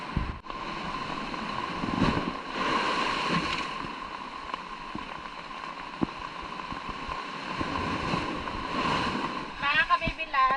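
Strong sea waves at high tide surge and wash around continuously, overflowing onto a pathway, with a rushing, wind-blown roar close by and occasional splashes.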